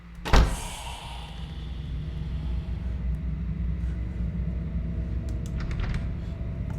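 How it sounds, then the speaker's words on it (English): A door slams shut with one sharp, loud bang in the horror video game The Hospital, followed by a low, steady ambient drone with faint ticks. "Who shut the door?"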